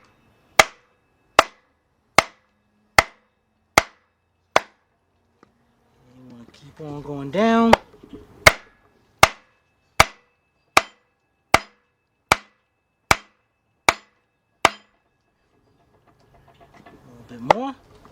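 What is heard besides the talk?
hammering a Jeep engine part using a wood block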